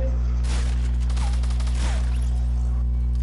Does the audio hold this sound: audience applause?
no